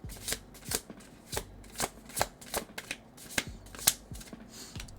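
A tarot card deck is shuffled by hand at close range, giving a string of crisp riffling slaps and flutters at an uneven rhythm, about a dozen distinct bursts with quiet gaps between them.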